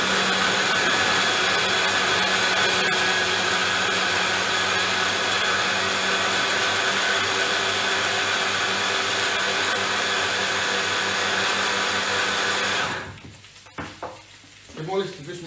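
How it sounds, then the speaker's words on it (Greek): A blender whirs loudly and steadily while blending marinade ingredients for lemon chicken with potatoes, a close and continuous motor drone that cuts off sharply near the end, leaving a few brief clatters. "Γιατί πρέπει να χτυπήσουμε στο blender τα υλικά μας."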